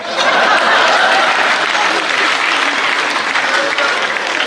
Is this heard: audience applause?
yes